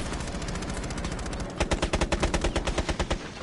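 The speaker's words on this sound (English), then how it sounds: "I was shooting at him." Gunshots in a video game: a dense wash of rapid fire gives way to a steady burst of evenly spaced automatic shots, loud and close, with no talking.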